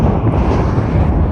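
Outdoors on a hill, wind buffets a microphone with loud, continuous low rumbling and roaring gusts that fill the short stretch, with no voices.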